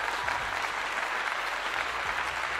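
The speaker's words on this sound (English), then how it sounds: "Give you a clap." Applause at a college football post-game gathering after Colorado versus Oregon State: a dense, even wash of clapping at moderate distance, steady for the whole stretch with no voices above it.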